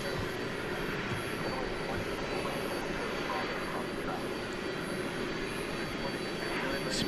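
A jet airliner comes in to land on runway 18 left at DFW Airport at night, with emergency vehicles standing by; a steady, distant broadband engine roar holds at an even level throughout.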